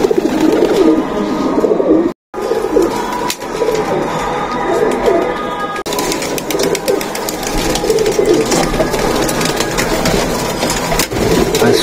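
Golden Blue Madrashi pigeons coo in a loft, repeated low throaty coos close by amid wing flutters, shuffling and a constant background hum, with a brief dropout early on.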